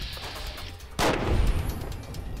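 A single gunshot in Fallout: New Vegas, a sudden booming crack about a second in with a rolling low tail, over steady game ambience.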